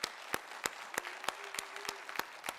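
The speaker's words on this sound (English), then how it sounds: "We're gonna get an applause for you." Applause from a crowd, with distinct claps landing at a steady rhythm over a hissy background.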